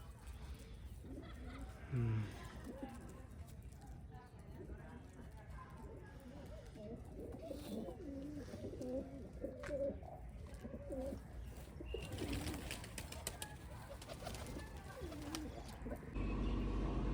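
Pigeons coo softly in repeated low gurgling calls while people talk nearby, with a few louder knocks and rustles toward the end.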